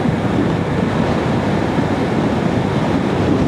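Strong side wind buffets a motorcycle on a coastal road in Hualien, Taiwan, a steady loud roar of wind noise rushing across the microphone without a break.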